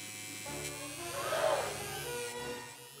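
Electric razor buzzing steadily as it shaves the hair off a Barbie doll, a moderate hum that swells slightly in the middle and holds for about three seconds with no talking.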